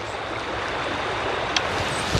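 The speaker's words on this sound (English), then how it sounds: "I like the sound of the river." A river flows through the Wissahickon Woods as a steady, broadband rush of water, close and continuous throughout, with no talking.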